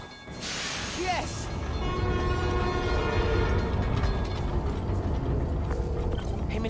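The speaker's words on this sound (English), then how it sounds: "My trusty New York subway." A New York subway train in the Spider-Man: Miles Morales video game rumbles steadily throughout with mechanical rattling, a brief rising tone near the start, and a sustained horn-like tone blending into the continuous loud rail noise.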